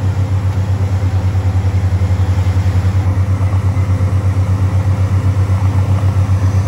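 A borewell drilling rig cuts into tight, hard soil, giving off a loud, steady low engine drone with a rhythmic pulsing churn that holds unbroken throughout.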